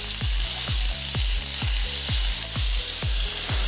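Cauliflower stalk chorchori fries in a wok with a loud, dense, continuous sizzle close by, overlaid by regular low thumps repeating about twice a second.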